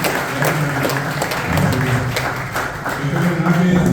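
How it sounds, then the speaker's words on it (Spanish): Applause from a gathering at a Guarani language and culture anniversary celebration, a moderate, somewhat uneven clapping tribute mixed with room noise and low murmur, continuous across the whole span. "un aplauso para María de los Ángeles."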